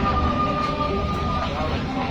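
A sleeper train travelling from Hanoi to Hue in Vietnam, a steady low rumble and rolling clatter heard from inside a carriage, continuous and fairly loud, with a voice speaking over it.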